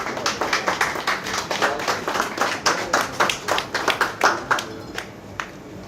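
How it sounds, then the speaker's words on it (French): Audience clapping to welcome chef Philippe Ferrer at a restaurant award event in Mauritius, a lively, fairly close round of hand claps that holds steady before thinning out at the end. "qu'on peut d'ores et déjà applaudir, mesdames et messieurs"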